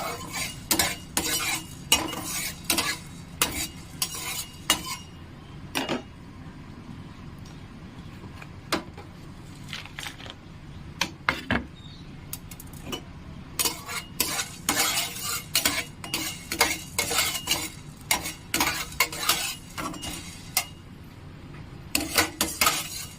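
Chillies frying in a pan for paneer masala, with a spatula repeatedly scraping and clinking against the metal in irregular sharp strokes over a low, steady sizzle, close by and without speech.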